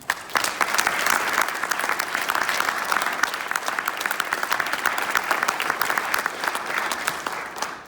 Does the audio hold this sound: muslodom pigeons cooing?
no